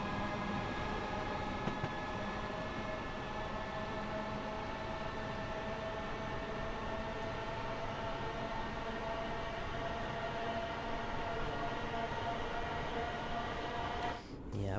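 A Class 314 electric train runs on the Cathcart Circle Line in Train Sim World 2, a steady, continuous motor drone with sustained whining tones and a faint rumble, unbroken until a small disturbance at the very end.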